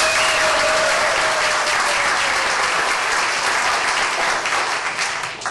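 A crowd delivers loud, dense, steady applause as a show of votes on a story, continuing unbroken and close for several seconds before easing slightly at the end.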